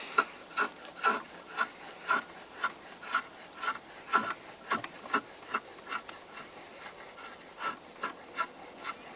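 A craft knife shaves along a wooden paddle shaft in quick, regular rasping strokes, roughly two per second, close and crisp against a quiet background.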